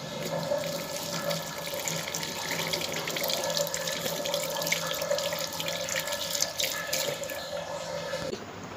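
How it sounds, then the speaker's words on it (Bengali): Tap water runs steadily into a sink while hands are washed beneath it, a continuous close splashing stream lasting several seconds without talk. "ভালো করে 20 সেকেন্ড হাত ধুয়ে নেবেন"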